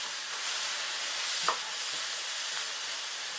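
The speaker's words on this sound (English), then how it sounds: "we're just going to keep on sauteing for another 2 to 3 minutes" Burdock root and carrots sautéing in a pan with mirin and soy sauce, giving a soft, even hiss throughout and one faint clink from a utensil, with no talking.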